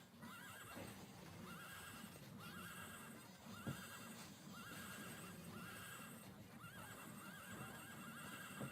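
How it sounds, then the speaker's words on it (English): Repeated horse neighs from the video game Patapon sound at a steady rhythm, roughly every second and a half, over continuous game music and hoofbeat-like clopping. "Horse noises."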